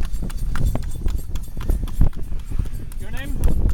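Horse hooves clip-clop in a steady rhythm as a horse-drawn taxi rolls along on Lombok, Indonesia, close and fairly loud beneath ongoing conversation among riders.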